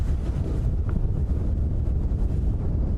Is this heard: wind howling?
yes